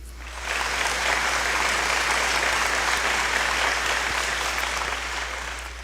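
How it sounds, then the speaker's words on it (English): A gala crowd applauds its supporters at a patriotic fundraiser for veterans and military families, a steady, full wash of clapping that swells in quickly and holds at an even level before tapering slightly, with a constant low hum underneath. "Let's give them a round of applause."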